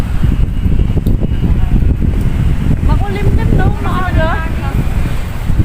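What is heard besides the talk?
wind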